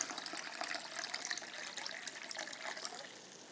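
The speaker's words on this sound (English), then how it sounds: "I fill this with water, the center." Water pours from a jug into the inner pot of a rose and salvia cutting propagation setup, a steady, fairly quiet splashing stream running continuously without speech.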